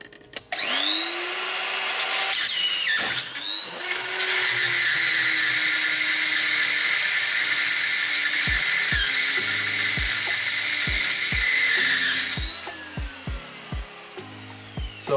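A carbide cutter on a rotary tool drills out the pins of a lock cylinder with a loud, sustained high whine that spins up, dips briefly, then runs steadily before stopping, followed by a series of light taps and clicks.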